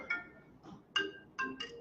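A telephone plays a bright, chiming ringtone in short bursts of tones, fairly faint and heard alone.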